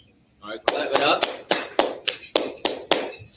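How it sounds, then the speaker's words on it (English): An audience at a class session claps in a steady rhythm, about nine evenly spaced, close claps after a brief murmur at the start. "All right, clap it up."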